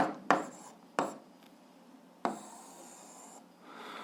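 Handwritten math working on paper: a few sharp pen taps and scratchy strokes, then a longer steady writing rub, quiet and close with no talk.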